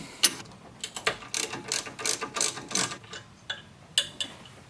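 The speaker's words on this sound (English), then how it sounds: "disconnect the lines from the strut and undo these bolts here" A ratcheting wrench loosens a 12mm brake line bolt on the strut of a 2002 Subaru Impreza WRX wagon, giving a series of close, quick metallic clicks in short bursts with pauses between.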